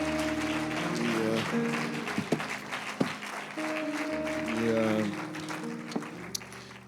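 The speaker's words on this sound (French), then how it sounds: "pouvons-nous applaudir encore le Seigneur une fois?" A church congregation applauds the Lord during a service, moderate clapping layered under sustained keyboard chords, with a few sharper claps poking through.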